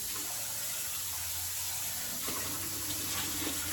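Steady running cold water from a tap into a sink while cooking seafood, a soft continuous hiss with faint splashing, fairly quiet and close.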